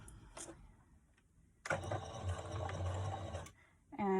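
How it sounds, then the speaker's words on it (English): A home sewing machine backstitches near the edge of faux leather for a tote bag, a close mechanical whirring burst lasting about two seconds between quiet pauses, followed by a short second start at the end. "I am going to backstitch just a little bit right near the edge of the faux leather"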